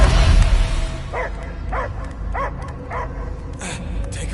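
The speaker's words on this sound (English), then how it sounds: "I hear only barking." A dog barks repeatedly in the video game Marvel's Guardians of the Galaxy, about six short evenly spaced barks over a rumbling low background.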